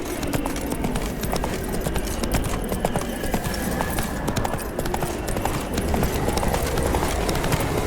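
Roach the horse galloping in The Witcher 3: Wild Hunt Blood and Wine on PC, rapid continuous hoof clip-clop under a dense wash of game ambience, no talk.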